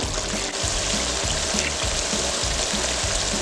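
Cassareep chicken stew simmering in a pot, a steady close bubbling and sizzling hiss with soft popping, continuous and even throughout.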